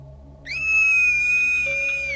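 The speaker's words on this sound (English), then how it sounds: "As a child star, Barbara was famous for her scream." A sustained high-pitched scream from the child star Barbara Finch in What Remains of Edith Finch, a single steady piercing cry lasting well over a second over a faint low background.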